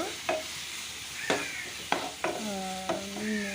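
Metal spoon scraping and clinking in a pan every second or so, over a low steady sizzle of spices frying in hot oil for chole.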